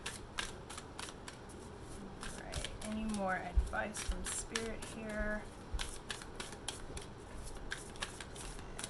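Crisp, rapid riffling of tarot cards shuffled at close range, repeated in bursts across the clip while a person speaks briefly.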